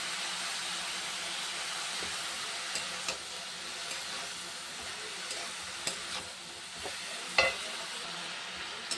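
Mixed vegetables fry in hot oil in a home kitchen, giving a steady close hiss and sizzle with occasional soft clicks of stirring, continuous throughout and without talk.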